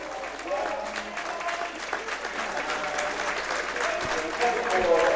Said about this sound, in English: Goal scorer Grant coming off to a round of applause